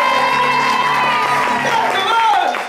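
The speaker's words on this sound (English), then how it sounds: "applause for our lighting crew." A theatre audience cheers, whoops and applauds the lighting crew at a JC Players production of Stop the World I Want to Get Off. The crowd noise is loud and continuous, with high shouted voices rising over the clapping.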